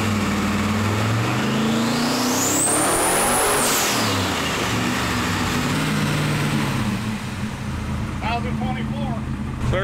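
Twin-turbo small-block Ford-powered Fairlane 500 street car on a dyno, engine revving loudly as its pitch climbs high and then drops back to a rough idle, a voice speaking briefly near the end.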